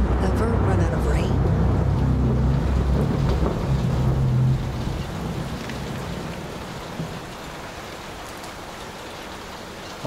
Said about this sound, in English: Will the storm ever run out of rain?